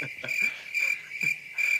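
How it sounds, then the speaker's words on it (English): Crickets chirp in a crisp, regular pattern of short trilled bursts, an inserted sound effect heard clearly with no talking. "You got that Crickets thing?"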